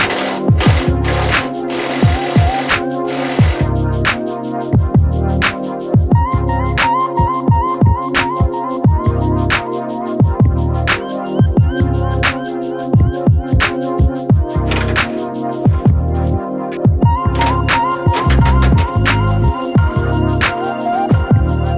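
Screws being backed out of a C10 truck grille with a power tool, steady buzzing whirring bursts repeating in quick rhythm with rattling clicks between runs, loud and close throughout.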